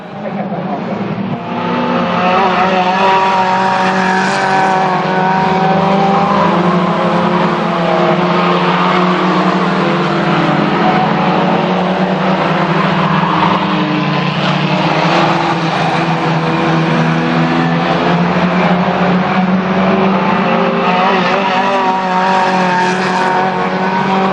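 Junior hot rod race cars roar past in a loud, continuous engine drone with shifting revs throughout a racing final, and a voice talks faintly underneath.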